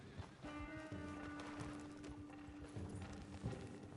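Horse hooves clip-clop at a steady trotting rhythm in the Red Dead Redemption 2 video game, close and distinct over low background ambience, with a faint tonal hum.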